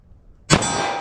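A single sharp metallic clang rings out as a pistol round strikes a steel target, a bright impact followed by a short ringing decay; no voices.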